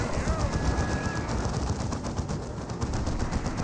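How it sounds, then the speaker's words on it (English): Rapid, sustained gunfire from an Ogryn squad in the Dawn of War 2 real-time strategy game, a dense, continuous automatic clatter under battle noise with no gaps. "And now the Ravener Alpha is receiving some fire from the Ogryn."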